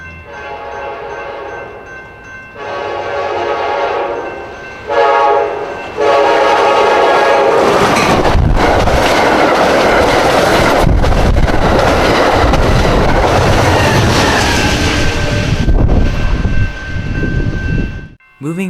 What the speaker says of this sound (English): In terms of sounds, the F40 uses a standard K5LA and a steel bell.